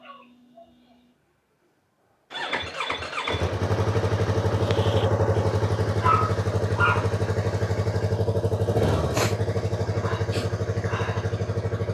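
A Yamaha YZF R3 sport motorcycle, refitted with its stock exhaust pipe, starts after a brief quiet moment and then settles into a steady, close, fairly loud idle with a dull, even hum and faint background clatter throughout.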